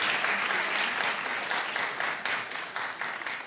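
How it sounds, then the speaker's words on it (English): An audience claps together, a dense and steady burst of applause that holds loud and even throughout. "Clap if it's okay."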